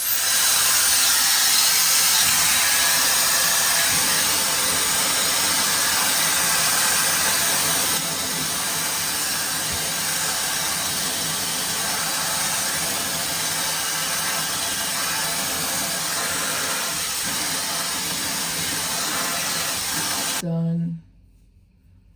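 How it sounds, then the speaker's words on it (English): Blow dryer on the cool setting drying hair, a loud steady rushing whoosh held for about twenty seconds at close range before it cuts off abruptly. "I'm gonna blow dry my hair on cool."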